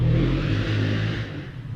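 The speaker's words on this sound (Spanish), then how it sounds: "A ver si pasa la moto." A motorcycle passes close by, a steady low engine rumble that holds for under two seconds and eases slightly toward the end, with no talking.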